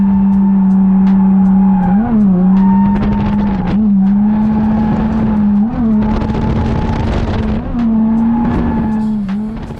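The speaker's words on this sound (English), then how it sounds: "This is me clutch kicking the living fuck out of third gear." A 225 horsepower Z drift car screams loudly in third gear with a steady high engine whine, repeatedly clutch-kicked so the revs dip and surge while tires squeal and scrub underneath, close and continuous.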